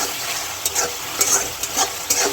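Chilli cauliflower tossed in soy and chilli sauce on high flame: a loud, continuous sizzle with repeated stirring scrapes and clatters of the pan every half second or so.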